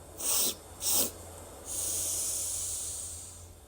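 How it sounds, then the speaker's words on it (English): Quick sniffing inhales during a beginner meditation breathing exercise: two short nasal sniffs, then a longer drawn-in breath, soft and close with no talking. "Inhale, 3 sniffs now."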